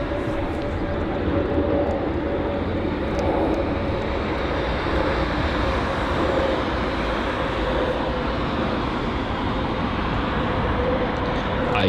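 Royal Brunei Boeing 787 airliner after landing on runway 09 right at London Heathrow in fog, a steady broad jet engine roar with a faint tonal whine, continuous and moderately loud throughout.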